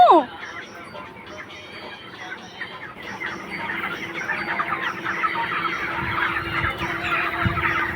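Chickens cluck and chatter continuously on a family-owned farm in the evening, a busy close chorus of short calls with a brief squawk at the start and a low steady hum underneath.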